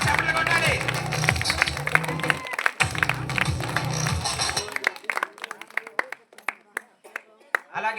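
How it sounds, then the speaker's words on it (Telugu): A crowd applauds at a stage ceremony during Sankranti celebrations in Koyavaripalem, dense clapping filling the first half with an announcer talking over it, then thinning to scattered individual claps. "అందరూ చప్పట్లు కొట్టాలి."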